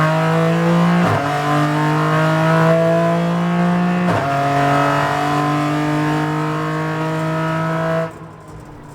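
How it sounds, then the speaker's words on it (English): A GT4 race car accelerating hard on a track, its engine note climbing steadily in pitch through two gear changes heard as sharp breaks, loud and close from the cabin before the revs cut off near the end. "After an orientation lap, which allowed us to get comfortable in the cars, David gives the all clear and we punch it."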